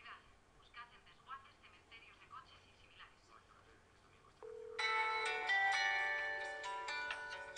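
An Elastix PBX softphone rings loudly with a bright, tonal electronic ringtone that starts partway through, after a stretch of quiet talk from a man.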